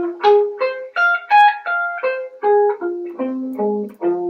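A guitar arpeggio runs through a minor scale shape, about a dozen clean single notes picked one after another, stepping up and then back down, close and clear with no talking.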